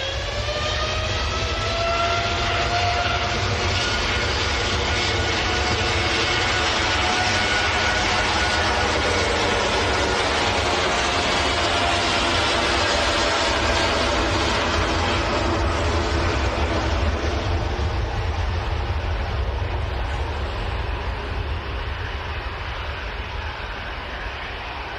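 TUI airliner departing Manchester Airport for Cancun, its engines building into a loud, continuous jet roar with shifting whining tones that swell and hold for the whole takeoff run.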